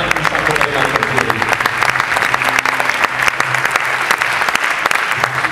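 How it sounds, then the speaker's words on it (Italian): Concert audience applause for a rock band's performance, loud and close, with sharp individual claps standing out over the steady crowd and some voices mixed in. "E continuate l'applauso per l'associazione Nebraska"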